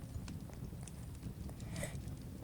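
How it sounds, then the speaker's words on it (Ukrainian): Horse hooves clip-clopping in the Roblox game Dead Rails, a brisk run of soft game hoof steps heard close over a low background hum, with no talking. "Ну, цей кінь, якщо до нього хтось доторкається, він горить."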